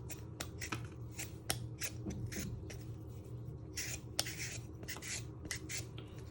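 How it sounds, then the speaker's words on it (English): A vegetable peeler scraping the skin off a potato for minestrone soup, with repeated short rasping strokes in an uneven rhythm, close and fairly quiet over a low background hum, with no talking. "So you're going to get the peeler and we're going to peel all the skin off."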